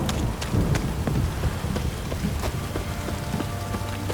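Steady rainfall pours in a stormy scene of The Witcher 3: Wild Hunt, with thunder rumbling and cracking several times over the constant downpour.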